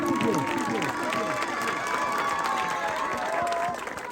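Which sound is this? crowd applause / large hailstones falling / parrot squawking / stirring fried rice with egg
crowd applause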